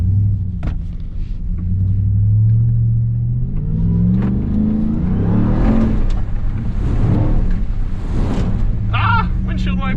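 2021 Ram TRX pickup truck in Baja drive mode, engine rumbling low then revving up with rising pitch as it accelerates, loud from inside the cab, with people talking over it.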